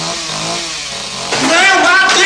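A chainsaw roars on the set of Texas Chainsaw Massacre 2, a loud buzzing engine that revs up sharply partway through, with shouting mixed underneath.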